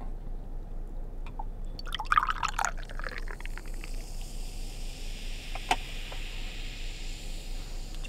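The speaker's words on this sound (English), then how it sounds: "Let's pour it in." Orange soda pours into a glass with a soft splashing gurgle, then settles into a quiet fizzing hiss with an occasional faint click.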